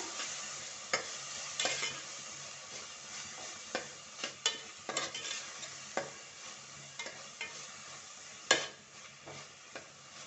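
Chopped tomato for a spicy sardine pulimunchi fries in a pan with a soft, continuous sizzle, broken by scattered scraping stirs and light clicks of a spoon against the pan, close and fairly quiet.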